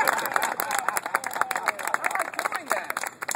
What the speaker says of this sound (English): People usually clap right about that.